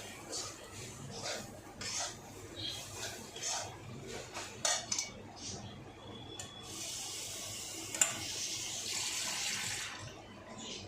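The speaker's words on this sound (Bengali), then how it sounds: "অল্প জল দিয়ে দিচ্ছি কষাটা ভালো হবে" Water poured into a pan of cooking jackfruit seeds, a soft splashing stream that grows into a steady rushing pour, preceded by light clinks of utensils against cookware, close and fairly quiet.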